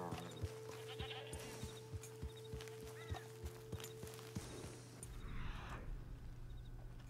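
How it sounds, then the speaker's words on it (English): Goats on a farm in Red Dead Redemption 2, a brief bleat amid a steady clip-clop of hooves, fairly faint, ending in a rising rush of noise. "Got some goats."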